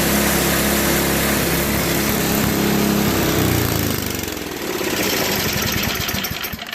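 A Craftsman snow blower with a 5HP Tecumseh engine runs loud and close, a steady rough drone that dips briefly, then settles into a fast chugging putter.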